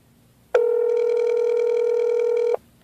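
A telephone call to a restaurant gives one loud, steady electronic ring tone lasting about two seconds, starting and stopping abruptly against near silence.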